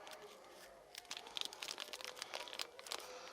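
Plastic bags crinkle and rustle in quick, uneven bursts while brake parts are unboxed for a Mercedes-Benz Vito van, close and fairly quiet, with light crunching handling noises throughout.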